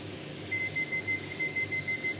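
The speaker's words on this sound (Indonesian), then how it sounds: "dia mengeluarkan beep putus-putus panjang" A gas detector alarm in a fire-detection system test, set off by lighter gas, sounds a series of evenly spaced short electronic beeps in a steady repeating rhythm over a faint background hum.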